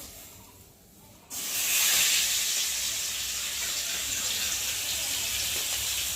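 A sudden loud sizzling hiss bursts in after a quiet moment and holds steady, like food dropped into very hot oil.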